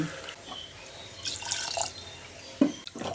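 Water poured from a vessel onto chicken and potatoes in a pressure cooker, heard as faint intermittent drips and splashes, with a couple of sharper splashes near the end.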